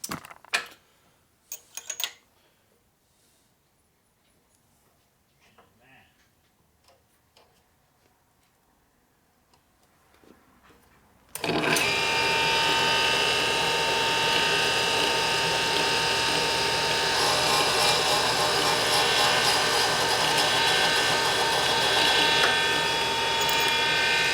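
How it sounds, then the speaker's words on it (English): A valve grinder hums steadily as it grinds the end of a valve from a 1981 Harley-Davidson XL Sportster 1000cc ironhead engine; faint workshop clicks and handling noises come first, then the loud continuous whine of the grinder kicks in. "now we're over the valve grinder. So I'm going to butt off the end of the valve here"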